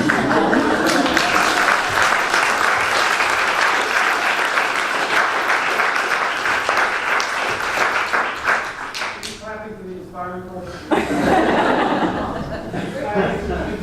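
Sustained applause from a large audience, dense steady clapping with a few chuckles, then easing off and briefly swelling again near the end.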